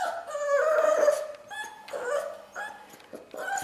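An American Staffordshire dog whimpers and yips in a run of high, whiny cries with short pauses between them, close by and alone.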